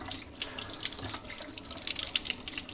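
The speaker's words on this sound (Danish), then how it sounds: "Først skyller du den af i koldt vand fra hanen." Cold tap water runs over Kishu Binchotan charcoal held under a kitchen faucet, a close, steady splashing stream with uneven spatters as the charcoal is rinsed.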